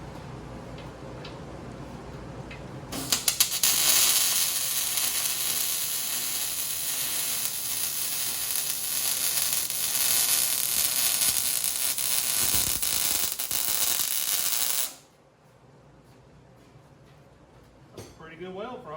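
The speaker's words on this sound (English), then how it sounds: "Pretty good weld for holding it upside down." Welding with a lead held upside down on a wrecked factory stock car: a steady, loud crackling sizzle runs for about twelve seconds, then stops abruptly, leaving quiet room tone with faint movement.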